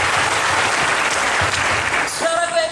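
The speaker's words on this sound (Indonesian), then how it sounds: "sekali lagi tepuk tangan bagi Tuhan Yesus" Applause from a church congregation at a Christmas revival service in Yogyakarta, a loud, sustained clapping of a large crowd that fades near the end as a voice starts to speak.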